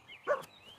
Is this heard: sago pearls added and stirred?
no